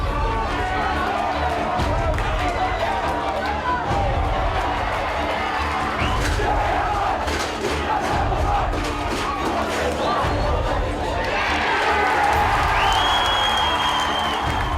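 A home crowd at a school rugby game roars throughout, a dense, sustained wash of cheering and shouting with scattered applause and voices mixed in, loud and close, with a whistle-like tone near the end.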